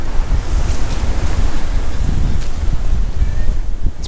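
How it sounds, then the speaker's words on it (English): Strong wind buffets an outdoor microphone high in a national park, producing a loud, continuous roaring rumble with gusty fluctuations and no voices. "It's pretty windy right now too."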